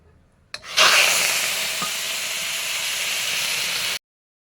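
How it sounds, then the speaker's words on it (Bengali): Prawns, first dusted with turmeric, drop into hot oil in a kadai with a sudden burst, then fry in a loud, steady broadband hiss and sizzle that holds evenly for about three seconds before cutting off. "চিংড়ি মাছটা ভাজা হয়ে গেছে"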